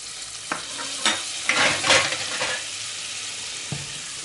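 Flour sizzling and crackling in butter in a pot as it roasts, with a few sharp scraping stir strokes breaking through the steady frying hiss.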